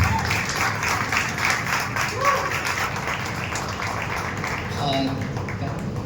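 Audience applause for Nipun Dharmadhikari at a Marathi stage talk show, a steady broadband clatter of clapping lasting several seconds, with voices talking over it.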